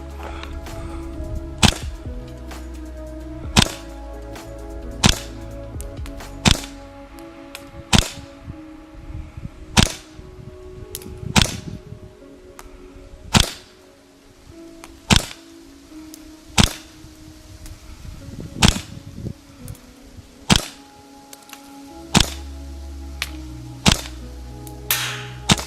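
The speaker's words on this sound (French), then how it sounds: "Je vais essayer une quinzaine de tirs à 45 mètres." A WE XM177 V3 gas blowback airsoft rifle firing about fifteen single shots at a 45-metre target, each a sharp crack with a clack of the bolt, spaced a second or two apart over faint background hum.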